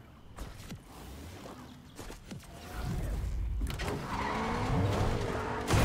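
A car in a video game starts moving and drives off. The engine rises from a low hum into a steady, louder drone, with a few mechanical clunks and whirs at the start.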